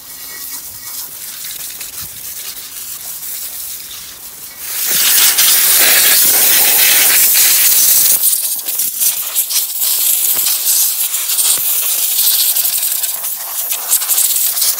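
A loud, steady rushing spray of a pressure washer cleaning a greasy John Deere transaxle part starts partway through and continues close up, preceded by quieter hissing.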